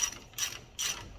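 A ratchet tightens wheel bolts on an Abarth 595 during a Brembo disc and pad change, giving two quick bursts of clicking pawl, close and fairly quiet.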